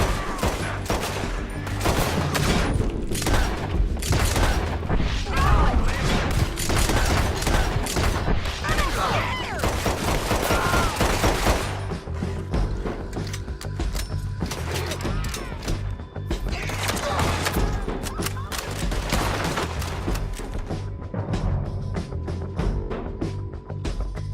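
Gunfights in Red Dead Redemption 2 bring dense bursts of rapid shots and cracks in a town shootout, near and loud, with shouting voices mixed in among the firing.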